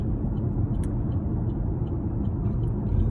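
Steady low road rumble from inside a moving car, a continuous even drone with faint small clicks and no one talking.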